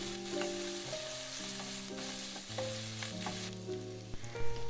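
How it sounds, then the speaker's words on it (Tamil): Curry leaves and two small pieces of cinnamon sauté in hot oil for chicken noodles, giving a steady soft sizzle with light stirring scrapes, under a faint background tone and with no talking. "கொஞ்சமாக கருவேப்பிலை இதோடு சேர்த்துடலாம் சேர்த்துட்டு சின்னதாக ரெண்டு துண்டு பட்டை இதோடு சேர்த்து அதையும் கொஞ்சம் வதக்கிடலாம்"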